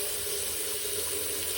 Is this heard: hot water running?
yes